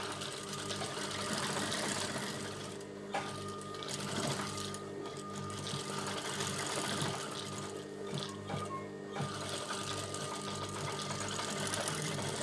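A sewing machine stitches lining material for a churidar top, its needle mechanism rattling in a fast, steady mechanical whir with brief pauses, close and fairly quiet.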